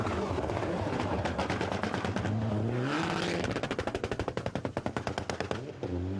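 A rally car with a misfiring engine in the Rally Longyou in China, International Rally Challenge 2007, revs hard with rapid stuttering popping bursts like gunfire, the engine note rising and falling as it crackles past close by.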